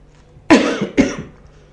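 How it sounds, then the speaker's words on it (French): Two sharp coughs in quick succession, close and fairly loud, with a short fading tail after the second. "Ça fait tousser."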